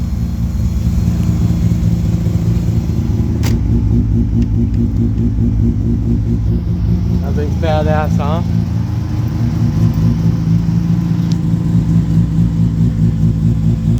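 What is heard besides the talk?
truck with built turbocharged motor revving and driving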